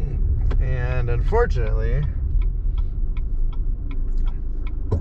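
A car cruises along a Texas highway on a windy day, its steady low road rumble and engine drone running throughout beneath someone speaking over it.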